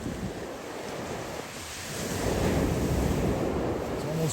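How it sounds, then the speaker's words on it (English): Strong wind blows at a frozen lakeshore during a snow storm, roaring steadily as a broad, loud rush with heavy buffeting on the microphone that swells toward the end, and nobody speaks. "The wind in this segment was absolutely atrocious"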